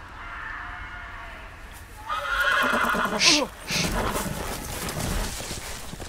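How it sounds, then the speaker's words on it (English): A horse neighs in the Game of Thrones video game, a loud whinny rising and falling over a couple of seconds amid game sounds, with a person talking over it. "Don't know why the horse ran away"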